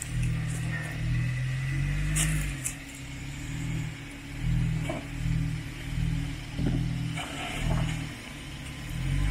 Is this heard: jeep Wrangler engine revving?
yes